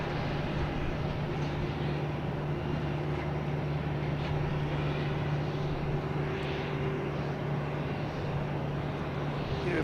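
American Airlines airliner arriving from Chicago and landing at Boston's Logan Airport, a steady broadband jet roar with a low engine drone that holds constant and loud throughout, no voices.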